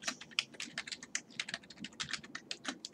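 Rapid, uneven keystrokes on a computer keyboard as an email is typed, close and fairly quiet, with no voices over the clicking.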